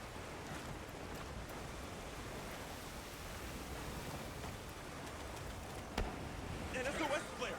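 Heavy rain pours in a dense, steady hiss in the video game Monster Hunter Wilds, with a brief sharp sound near the end and a rise in noise in the final second.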